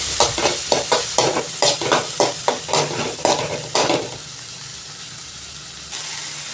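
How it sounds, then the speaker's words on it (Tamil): Onion and tomato sautéing in a pan: rhythmic scraping stirs over a steady sizzle, about a dozen quick strokes, then the hiss continues alone before fading. "அந்த தக்காளியும் அதில் போட்டு நல்லா வதக்கிக்கலாம்"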